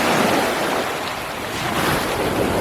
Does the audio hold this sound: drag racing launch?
no